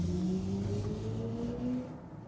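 An electric car in sport mode accelerating out of a corner with rear-wheel drive, its synthetic acoustic feedback tone rising steadily in pitch as speed builds, close and fairly loud before easing off at the end.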